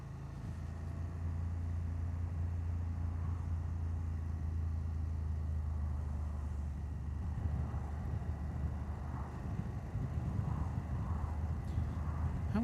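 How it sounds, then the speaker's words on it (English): A BMW F750GS motorcycle's engine hums smoothly at around 40 mph in slow traffic, a steady low drone heard alone with a constant wind and road rush. "in slow speed situations like this one, pootling along at 40 miles an hour in traffic, the engine is super smooth"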